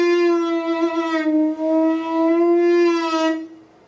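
The lowest note of a bamboo saxophone (hichiriko), a single low woodwind note held for about three seconds, reedy and rich in overtones, with slight wavering before fading out.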